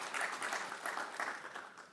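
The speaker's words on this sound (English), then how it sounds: "I think we should give ourselves a round of applause in contributing to that." Audience at an international cancer conference applauds, a faint, distant patter of many hands clapping steadily for a couple of seconds and tapering off.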